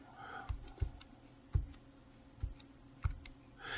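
Keys pressed on a Casio CL-812 pocket LC II calculator, five or six soft separate clicks at uneven intervals, close and quiet against faint room noise.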